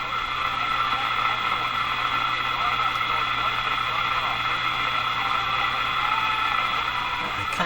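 Dull, boxy audio from a vintage Moffat Crosley Model G2465 five-tube radio plays continuously with a narrow, muffled tone and faint static hiss underneath, a voice coming through the speaker.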